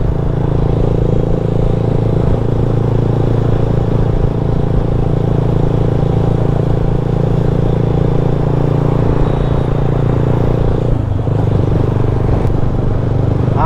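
Continuous loud engine drone and wind rumble from a motorcycle riding along an elevated expressway, with steady road noise, light rattling and a brief shift in tone near the end, no speech.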